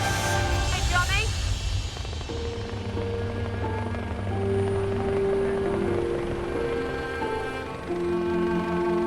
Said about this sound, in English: make room for the police helicopter